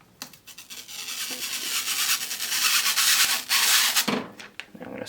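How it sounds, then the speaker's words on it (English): A screw is driven back into a PC case by hand, giving a continuous close scratchy, rubbing grind of metal on metal with a few brief clicks and pauses, with no talk. "I'm going to screw this back in."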